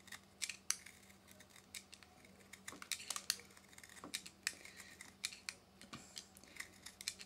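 Charcoal drawing stick being sharpened by hand with a blade, a rapid series of faint, dry scraping and shaving strokes, fairly close and quiet, with no talking.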